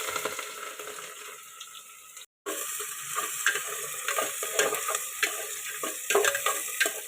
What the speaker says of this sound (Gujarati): પછી આપણે આ જે ડુંગળી છે એ નાખી દઈશું